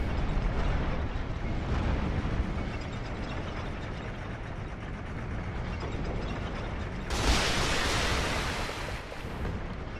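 Elevator moving in Dark Souls II: Scholar of the First Sin, a continuous heavy mechanical rumble and grinding that runs steadily throughout, with a brighter surge near the end.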